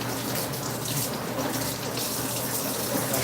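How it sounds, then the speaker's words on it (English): A kitchen tap runs steadily while hands are washed at the sink, a close, continuous hiss of flowing water that stays even throughout, with no talking. "let me wash my hands real quick"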